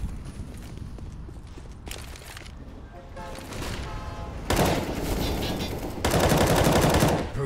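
Rapid gunfire bursts from a Counter-Strike match, rounds fired through a wall, growing louder in the second half over a busy background of in-game noise.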